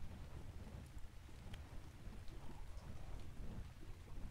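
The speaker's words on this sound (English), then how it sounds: "Ah, these storms." A thunderstorm in the video game Ark on a heavily modded Olympus map, with a soft steady wash of rain and a low rumble of thunder, plus a few faint crackles, heard alone.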